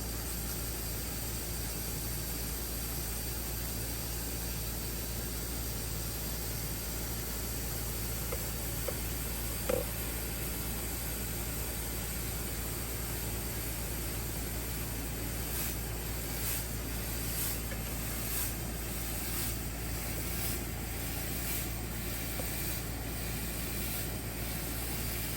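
A 1000 watt YONMIU fog machine blasting fog gives a steady, broad, even hiss and rush that holds for the whole stretch, with a constant low hum underneath and no talking.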